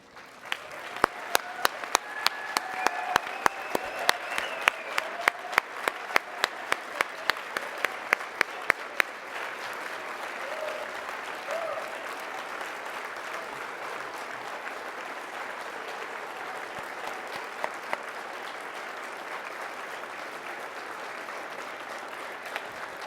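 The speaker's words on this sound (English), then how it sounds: "we would love to give you an all-together round of applause" Audience at a Rotary Club of Denver gathering applauds the standing class of 2013 graduates, opening with loud, sharp individual claps that settle into a steady, sustained round of applause filling the room.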